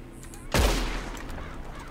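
A rifle shot fired in the Red Dead Redemption 2 video game, a single loud sharp blast with a booming low tail that rings out over quiet background ambience.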